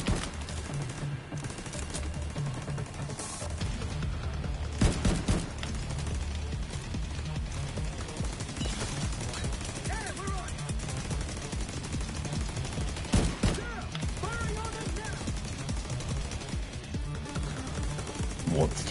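Automated turret fire in The Division 2, sharp bursts of gunfire scattered through a busy combat mix with a voice talking over it.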